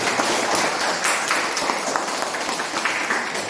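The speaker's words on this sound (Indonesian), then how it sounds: "Kita tepuk tangan." Children in a classroom clap their hands together in a lively, uneven patter that keeps going at a fairly even, moderate loudness, with no voices over it.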